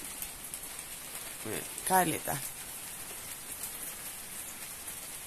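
Steady rain falls outdoors as a constant hissing patter, while voices speak briefly over it partway through.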